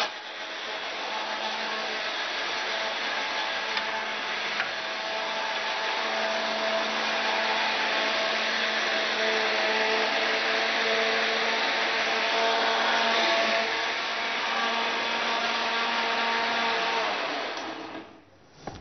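An electric blender blending tomatoes runs as a loud, continuous motor whir for nearly the whole stretch, with slight shifts in pitch, before switching off abruptly at the end.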